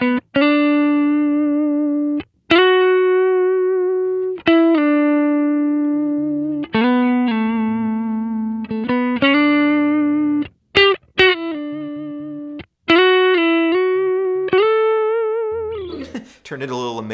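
Electric guitar played through a Kemper profiler with a compressor placed after the amp section, sustained clean-toned notes and chords ringing out in a slow melodic phrase, evenly held and smoothly sustained, no talking.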